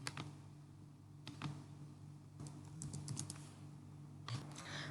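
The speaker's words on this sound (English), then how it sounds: "Type in your credentials." Quiet typing on a computer keyboard to enter login credentials, soft irregular key clicks in short clusters over a faint hum, close and low in level, with no talk.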